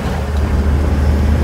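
A 2019 JAC 2.4-tonne truck with an Isuzu engine drives along an empty road at night, its engine a deep, steady rumble mixed with road and wind noise, loud and continuous with no talk.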